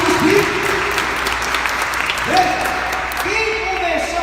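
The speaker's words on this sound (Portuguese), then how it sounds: "Pode aplaudir, gente, isso é testemunho" A church congregation at a charismatic worship service applauds steadily and densely throughout, with a voice sounding over the clapping.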